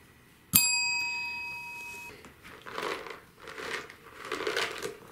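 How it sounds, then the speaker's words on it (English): A small bell dings once, clear and ringing, its tone fading over a couple of seconds, followed by soft rustling and crinkling sounds nearby, during cat training. "ring the bell"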